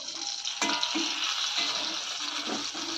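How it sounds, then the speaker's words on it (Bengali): Boiled pieces of food fry in a pan at home, a steady close sizzle with a few soft scraping stirs over about three seconds. "এগুলো ভেজে মানে ভালো করে এবার একটু লাল লাল করে ভেজে নিলেই হয়ে যাবে।"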